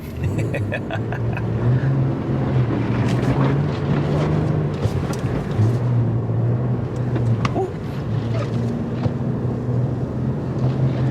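A Cadillac CT4-V Blackwing, a rear-wheel-drive sedan on proper tires, drives along a snowy road. Its engine gives a loud, steady low drone with a fluctuating tone, under a continuous rush of wind and road noise.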